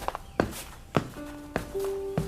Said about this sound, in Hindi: तभी पीछे से किसी के पैरों की आहट सुनाई दी।